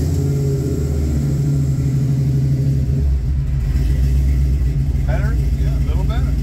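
A Chevy C10 engine with Holley Terminator X EFI starts and settles into a deep, rumbling idle close by, with a slight rise in revs partway through, while people talk over it.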